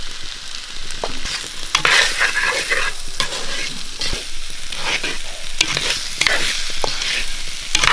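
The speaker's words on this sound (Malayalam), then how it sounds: "ഇതിലേക്ക് അരിഞ്ഞ് വെച്ചിരിക്കുന്ന സോയ ചേർത്ത് കൊടുക്കാം" Soya chunks and potato pieces fry in a pan for a Kerala-style soya chunk curry, giving a steady, close sizzle broken by repeated scraping and stirring of the spatula.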